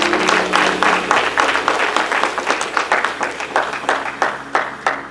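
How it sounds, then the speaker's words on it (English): A church congregation claps for the pastor, a loud sustained round of hand clapping with a slightly rhythmic pulse, heard alone without talk. "Can we give our pastor a little hand clap?"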